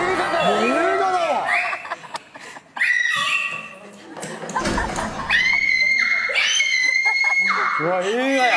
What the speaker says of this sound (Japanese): 綺麗な絶叫。